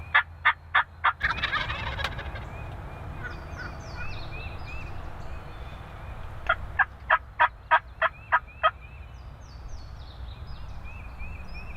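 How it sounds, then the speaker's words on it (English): A wild turkey gobbles in the morning outdoors, rapid rhythmic bursts heard at the start and again later, clear and fairly near over a hissing background of other birdsong and ambient noise. "we're hearing some birds already this morning"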